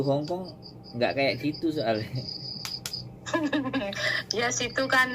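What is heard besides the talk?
crickets chirping in a rural village at night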